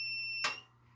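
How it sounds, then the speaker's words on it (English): A comic book heat press timer emits a loud, steady high-pitched electronic beep that suddenly stops, followed by a soft thump and quiet room hum. "Very annoying beep, right?"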